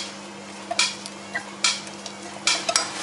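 A utensil stirs ingredients melting together in a pan for a doughnut glaze, giving repeated scraping swishes in uneven rhythm over a steady low hum, close and moderately loud, with no talking.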